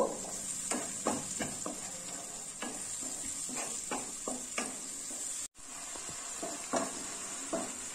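Ground tomato paste sautés in a pan, a soft continuous sizzle with repeated stirring scrapes and light utensil clinks against the metal, close by and with no talking.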